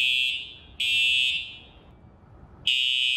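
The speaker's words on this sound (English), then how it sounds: "I just set off the fire alarm." A fire alarm set off by a fog machine sounds in three loud, shrill electronic beeps separated by short gaps, close and piercing, with no voices.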